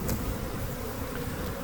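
A honeybee swarm buzzes in a bucket as a dense, continuous drone, close and fairly loud, with no talk over it.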